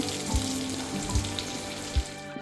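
Stuffed brinjals fry in hot oil with a steady close sizzle, broken by a few soft low thuds as the pieces are turned in the pan.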